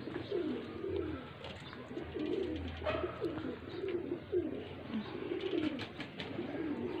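Faisalabad pigeons coo softly in repeated rolling phrases, several birds overlapping near at hand, with faint chirps in the background and no talk.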